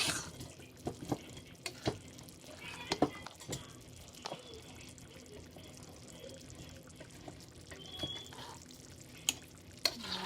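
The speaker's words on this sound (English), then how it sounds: "you take it off the heat and then add the butter and you just move it around" Butter stirred in a pan off the heat, with soft sizzling and scattered scraping and tapping of a utensil against the pan, quiet and close.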